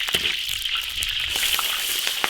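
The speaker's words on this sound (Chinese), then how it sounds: "花椒炝锅" Sichuan peppercorns sizzle in hot oil in an iron wok, a loud, continuous bright hiss with scattered crackles and pops and a few low knocks, close and unbroken by voices.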